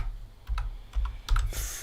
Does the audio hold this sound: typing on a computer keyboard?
yes